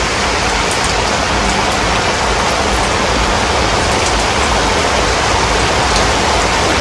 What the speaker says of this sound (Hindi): और ये देखिए अभी भी बारिश